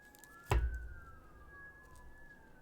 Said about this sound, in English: Sirens again.